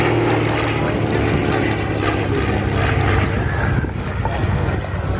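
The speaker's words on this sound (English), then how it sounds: "this aircraft, which was adapted from the civilian Cessna 170 to meet a US Army need for a new aircraft" A propeller-driven military observation aircraft adapted from the Cessna 170 flies a display at an air show, its engine a steady, loud drone mixed with wind rush throughout.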